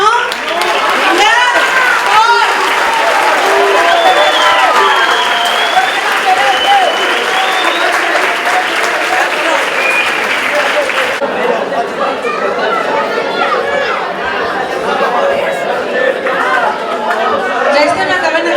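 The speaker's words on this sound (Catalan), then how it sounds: "Un fort aplaudiment, no? Vinga!" Audience applause fills a graduation ceremony for fourth-year ESO students, loud and sustained, with crowd chatter and cheers mixed into the steady clapping throughout.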